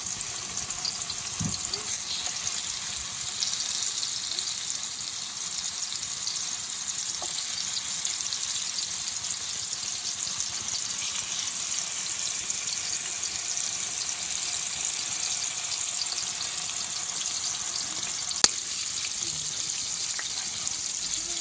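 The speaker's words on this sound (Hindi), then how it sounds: "बहुत डीप फ्राई नहीं करना, चलो फ्राई करेंगे इसको हम" Cooked mutton chops shallow-frying in oil, a continuous hissing sizzle that stays steady and fairly close throughout, with only a faint clink now and then and no talking.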